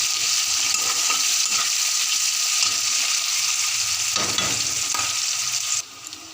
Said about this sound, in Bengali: এর মধ্যে এবার পেঁয়াজ কুচি দিয়ে পেঁয়াজগুলোকে হালকা হালকা ব্রাউন করে নিতে হবে।